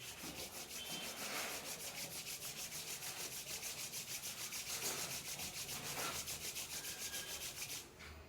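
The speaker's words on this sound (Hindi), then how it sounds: "पुनः हाथों को रगड़ लीजिए।" Two palms rub together briskly and rhythmically during a meditation, making a close, steady swishing friction that continues for several seconds and stops abruptly at the end.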